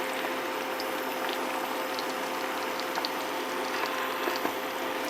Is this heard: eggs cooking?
yes